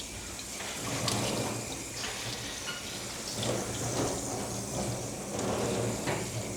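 Water is poured over a calm husky during a bath, a continuous splashing and trickling rush that swells and eases in several pulses, fairly soft and with no talk.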